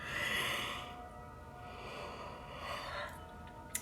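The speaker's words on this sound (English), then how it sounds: "I have to yawn again." A person yawns during a reiki session: a long, breathy open-mouthed inhale and exhale, soft and close, followed by a second quieter breathy swell, with no speech.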